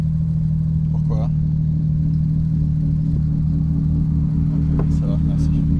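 A Porsche GT3 RS Exclusive Manufaktur with a JCR titanium exhaust holds a loud, steady, low idle drone close by, with brief voices over it.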